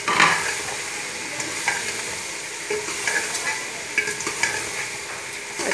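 Bitter gourd frying with spices in a pan, a continuous bright sizzle broken by regular scraping strokes of a spatula stirring, close up and with no voices.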